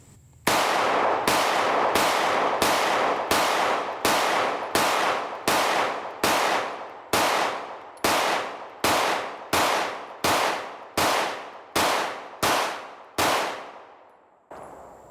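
Echelon 4.0c handgun with a ported barrel firing, about nineteen loud, sharp shots at a steady pace, each ringing out briefly before the next.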